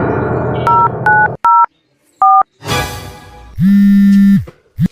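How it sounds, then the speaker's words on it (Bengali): Telephone keypad tones beep in short separate presses, a few quick dual-tone blips, then a burst of noise and a longer steady tone. "আমার ফোন দিতেছি"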